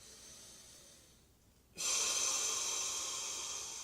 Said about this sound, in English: you're going to do one scooping breath over your head